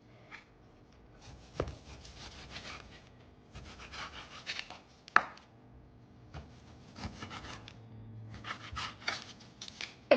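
A sharp kitchen knife slices stew beef into roughly 1-inch chunks for a canned beef stew, making several close rasping, sawing strokes in bursts with short pauses between them and no talking.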